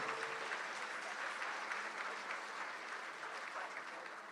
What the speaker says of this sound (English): Let's give them a hand clap for making it possible for us to be here today.